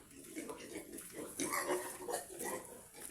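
A pig grunts and snuffles repeatedly nearby, low rough snorts coming in uneven bursts.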